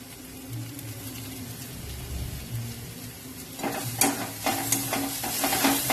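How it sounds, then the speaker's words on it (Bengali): A mixture seasoned with salt and turmeric fries in a pan for a sandwich filling, with a steady sizzle that grows busier halfway through as repeated scraping strokes of a spatula join in, and no speech. "নুন আর হলুদ দিয়ে ভালো করে ভেজে নিচ্ছি"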